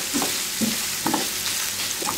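Onion and minced meat sauté in a hot pan, a close, loud sizzle broken by a few quick scraping stirs at an irregular rhythm, with no voice heard.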